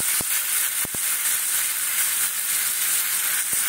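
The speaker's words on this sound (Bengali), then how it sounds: "তারপর এই মশলাটা কষাচ্ছি" Onion, ginger, garlic and coriander masala sizzles steadily in a frying pan, a continuous close hiss with a few sharp clicks of a spoon against the pan and no talking.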